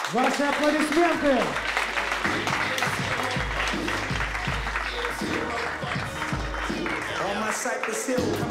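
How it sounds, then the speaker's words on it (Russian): A boxing-match crowd applauds under loud, bass-heavy hip-hop music blaring from the arena speakers, the clapping a continuous hiss partly buried beneath the rapped vocals and beat. "Ваши аплодисменты!"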